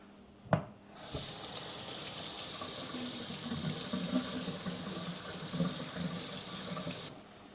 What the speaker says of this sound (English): step 1, we wash the carrots